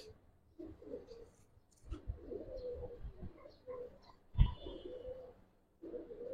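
Giribaz pigeons coo softly in a loft in old Dhaka, giving low, murmuring calls in short bursts, moderately close and mixed with rustling and a sharp knock.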